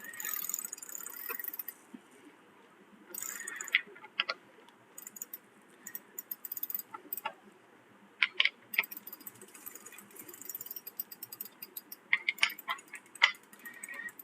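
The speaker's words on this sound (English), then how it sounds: "Again with our 14mm socket here. And just tighten it back up." Ratchet with a 14mm socket tightening a road bike crank bolt, heard as bursts of quick clicking ticks separated by pauses, close and fairly quiet.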